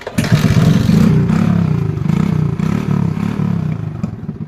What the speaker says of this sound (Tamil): வண்டி சவுண்டை பார்த்தீங்கன்னா புல்லட் சவுண்ட் மாதிரி இருக்கும்.